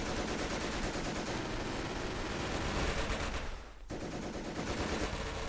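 Machine gun fire from an MG emplacement in the Company of Heroes video game, a dense, continuous roar of rapid gunfire that breaks off for a moment near the end before resuming.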